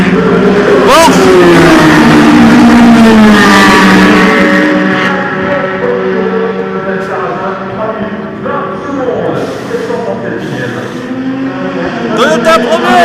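A Porsche race car screams past during Le Mans 24 Hours qualifying in 2016, its engine note rising and falling through gear changes, loud and close, then fading as another car approaches, with a commentator talking over it.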